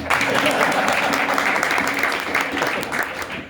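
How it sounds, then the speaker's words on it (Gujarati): An audience claps at a Gujarati lok dayro folk music evening in Brisbane, Australia. The applause is lively and sustained throughout, with a murmur of voices underneath. "તાળી પાડવાનું હોય"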